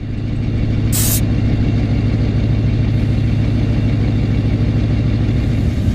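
An engine-driven air compressor runs steadily, inflating a leaking car tyre on a remote outback track in the Kimberley; a constant low mechanical drone and hum with a brief hiss burst near the start, no voices.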